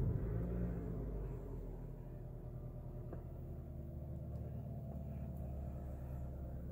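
A Toyota Camry 2.4G idles steadily after being started, a low continuous engine rumble with a deep hum that holds even and close throughout, no voices over it.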